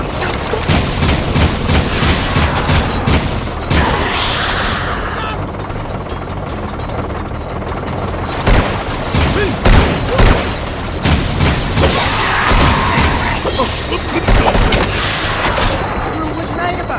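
Rapid bursts of video-game gunfire from Jak 2 crackle and boom loudly throughout, with heavy blasts and occasional character voices shouting in the mix.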